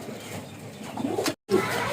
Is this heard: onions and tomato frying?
no